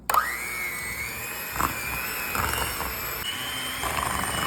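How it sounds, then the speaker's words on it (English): Electric mixer on low speed blending a cream cheese dessert, a steady whirring motor hum with a rising tone at start-up and occasional beater knocks against the bowl. "let's go ahead and mix this all together on low."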